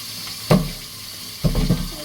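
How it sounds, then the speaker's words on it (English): Green bananas are rinsed under running tap water in a Jamaican kitchen, with a steady soft hiss of flow and a few splashy bursts as the fruit is moved in the stream. "I'm washing my banana"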